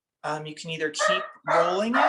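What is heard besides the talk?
dog barking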